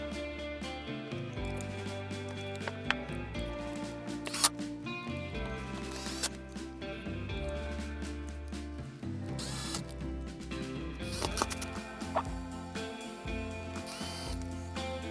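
Screws are driven into the housing of a Fostex 6301NE speaker with a powered driver, close and fairly quiet, with rhythmic whirring and ratcheting bursts and clicks, no talk.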